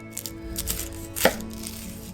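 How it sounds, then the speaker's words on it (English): A knife slices through the end of a very large elephant garlic clove, giving one sharp, close chop against a board amid faint background noise. "I'm just going to cut the ends off."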